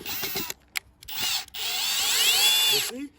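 A handheld screw gun whirs while driving a screw, in two short bursts and then one longer sustained run whose pitch rises and falls, fairly close and loud with no talking.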